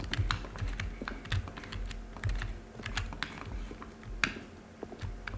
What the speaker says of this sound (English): A selection of the sounds used throughout the game when buttons are pressed. Each sound is a mix of a keyboard stroke and a synthesized tone.